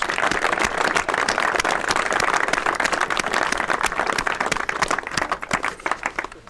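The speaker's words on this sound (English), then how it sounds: "So a big round of applause for Shimano and Blakes." Crowd applause at a three-day spring fishing festival on a farm, steady, dense clapping for the sponsors that continues throughout and starts to break up into individual claps near the end.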